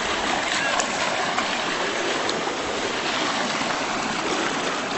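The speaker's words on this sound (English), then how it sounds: "the water is going over that way and making new pathways" Creek water rushing steadily past a bridge, spreading into new channels; a dense, continuous broadband roar close by with no breaks.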